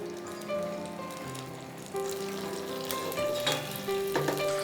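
Cumin and mustard seeds sizzling in hot ghee and oil: a steady crackling fry with scattered pops and faint tonal hum underneath, moderately loud and close, no talking.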